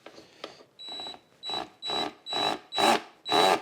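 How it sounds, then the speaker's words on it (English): A drill whirs in repeated short bursts that grow louder, with a rattling, buzzing clatter as the spinning bit's edge knocks against the chain guard and mud guard of an XR250R motorcycle. "That sound is the edge of this hitting on the chain guard"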